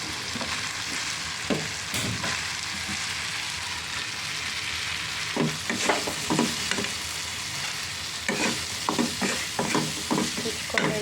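Dried fish, shutki, frying with onions in oil in a pan, a steady sizzle broken by repeated scraping strokes of a spoon stirring, close and loud, with no talking.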